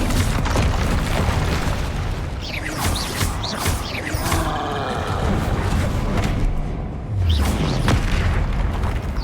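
Confringo and Bombarda spell explosions in the Hogwarts Legacy video game, a dense run of booming blasts with creaking, mechanical debris and sweeping whooshes, loud and continuous, ending in a heavy low impact.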